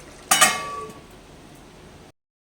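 A metal lid clinks down once onto a cooking pot of gourd and shrimp curry, ringing briefly before a low steady hiss takes over and then cuts off.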